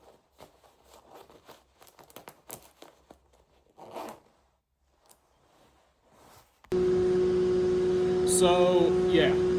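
Zips on borrowed outdoor clothing are tugged and done up in a run of short, scratchy rasps and rustles close by, followed by a loud steady tone with a person's voice over it.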